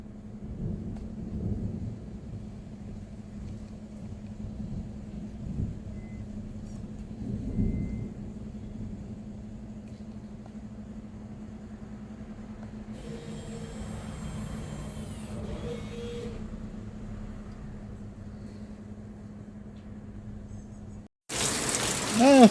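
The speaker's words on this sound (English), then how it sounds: "in the middle of this, it started to rain" Thunder rumbles low and steady, with a burst of rain-like hiss partway through, as rain begins to fall outdoors during a brake pad and brake fluid job on a 2016 Honda Civic EX; a sharp loud noise cuts in at the end.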